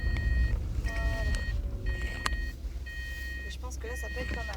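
A car's parking sensor beeps in repeated tones while reversing, steady beeping over engine and road rumble, with a person speaking at moments.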